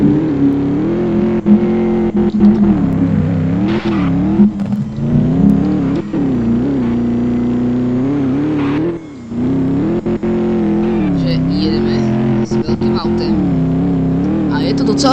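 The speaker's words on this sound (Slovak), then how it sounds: "Dáme veľké auto, nech si užijeme aj s veľkým autem." A big car's engine drones and revs continuously in a realistic driving video game set on mountain roads, with the pitch rising and falling as it accelerates, under steady talking throughout.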